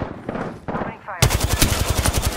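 Automatic weapon fire in Apex Legends: after quieter shots and a brief voice, a loud, rapid burst of evenly spaced rounds rattles on for over a second.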